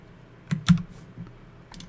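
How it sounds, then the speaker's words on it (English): Typing on a computer keyboard, with a few sharp key clicks spaced irregularly over the short stretch and quiet pauses between them, close by and with no voices. "Come on, typing."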